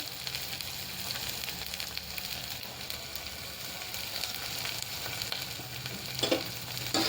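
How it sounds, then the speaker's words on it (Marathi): Moong beans with salt are stirred and roasted in a pan for a vegetable dish, a steady soft sizzle with light scraping of the spoon throughout, no talking. "ते सुद्धा आपण सर्वांचं मिक्स करून घ्यायचं, भाजून घ्यायचं व्यवस्थित."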